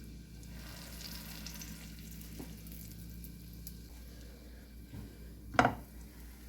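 Garlic and bread fry in oil in a skillet with a quiet, faint continuous sizzle, broken by a few soft scrapes and one sharp close clatter of a utensil against the pan near the end.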